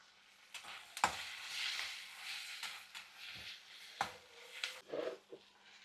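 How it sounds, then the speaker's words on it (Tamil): Tomatoes with onion being sautéed in a pan for tomato chutney, a soft steady sizzle with occasional sharp scrapes and stirring knocks, close and moderately quiet, no voices. "தக்காளி நல்லா கிரேவியாக வர வரைக்கும் கொஞ்சம் நல்லா வதக்கிக்கலாம்."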